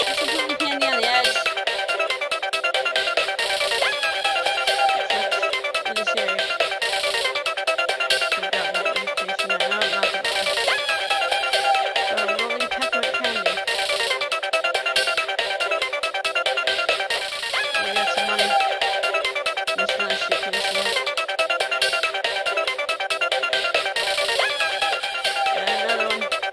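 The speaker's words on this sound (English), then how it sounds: "Makes a ringing noise even if I don't kill a person, though." Continuous bright ringing and jingling tones from an indie video game in Candy Jam, repeating rhythmically and steadily at a constant level throughout.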